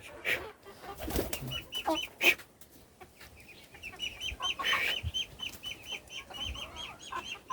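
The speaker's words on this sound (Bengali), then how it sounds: "কতগুলো বাইরের মুরগি ঢুকে গেছে আমার ফার্মে" Chickens cluck and chatter in quick, irregular bursts on a farm, with a few sharper calls, fairly close and without talk.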